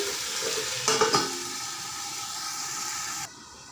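Chicken feet curry is stirred in a hot pan, with a steady sizzling hiss and a couple of brief scraping clatters from the spoon before the sizzle cuts off.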